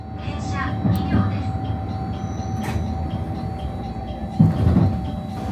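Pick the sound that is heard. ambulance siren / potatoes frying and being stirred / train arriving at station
train arriving at station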